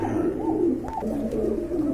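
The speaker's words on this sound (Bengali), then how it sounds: "বন্ধুরা দেখতে পাচ্ছেন আরেক জোড়া কবুতর" Pigeons kept in pairs for sale coo in low, throaty, repeated calls, close by and clear, with a soft rolling rhythm.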